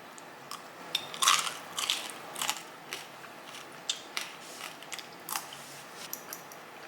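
Crispy air-fried pork belly with Cambodian coconut milk marinade crunches under repeated bites, a dozen or so sharp crackles close up, louder at first, then lighter chewing crunches.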